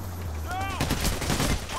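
Gunfire in the Payday The Heist video game, dense overlapping shots popping close and loud in a chaotic burst, with a brief voice underneath.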